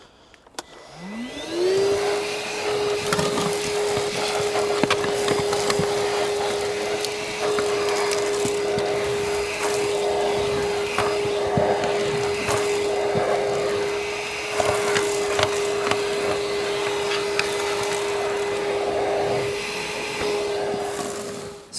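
A vacuum cleaner whines up to a steady high drone while hoovering the interior of a Range Rover, with rough scraping and clattering bursts as the nozzle works the carpets and trim, loud and close throughout.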